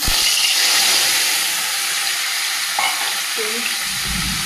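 Fish coated in salt and turmeric frying in hot oil in a kadai, a loud, close, continuous crackling sizzle that holds steady, with a couple of faint clinks near the end.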